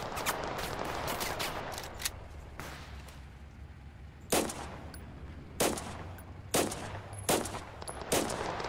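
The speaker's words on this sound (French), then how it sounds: "c'est la guerre. Et ça tire fort. Ça tire très fort." Heavy gunfire in the video game Total Conflict: Resistance: a dense, loud opening barrage, then sharp, powerful shots cracking out one after another at roughly one-second intervals, with no voices.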